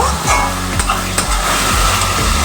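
Ginger, garlic, onion and green chili paste sizzles and fries steadily in a pan for a mutton curry, with a few spatula scrapes and stirs breaking through the continuous hiss, close and fairly loud, no talking.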